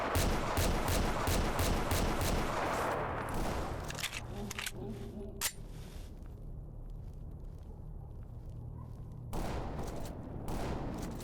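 Rapid gunfire in the video game S.T.A.L.K.E.R. Anomaly: a fast, close burst of shots that rattles for a few seconds, then sparse single cracks and a quieter lull before another loud burst near the end.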